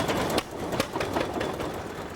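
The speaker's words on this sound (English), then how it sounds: "They're called flywheel engines, the name coming from the heavy flywheels that make them run." Several antique flywheel engines run together at a show, making a loud, dense, rhythmic chuffing and knocking with irregular sharp beats over a steady mechanical clatter and no voices.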